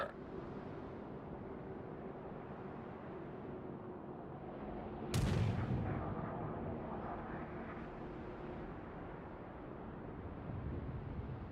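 A single heavy boom from a battleship's main guns firing at an enemy Nagato in a naval warfare game, a sharp broadband blast rising out of a steady low engine and sea rumble and trailing off over a few seconds.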